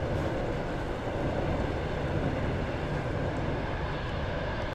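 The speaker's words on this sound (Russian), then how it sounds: "Вот она, электричка РЖД." A Russian Railways electric commuter train rolls across a steel bridge, a dense, loud, continuous rumble and roar holding steady close by before cutting off abruptly.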